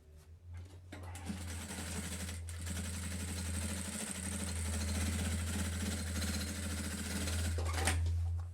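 Sewing machine topstitching along the side seam of a thermal lunch bag, a steady close mechanical whir with a low motor hum running continuously for several seconds, no talk.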